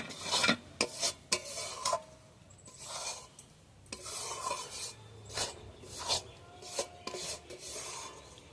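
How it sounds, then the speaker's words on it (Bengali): A spoon scraping and stirring gram flour (besan) roasting in hot oil in a pan, repeated rasping strokes in an uneven rhythm, close and fairly soft, with no talking. "বেসনটা দিয়ে আমি ভালোভাবে লাল লাল করে ভেজে নেব"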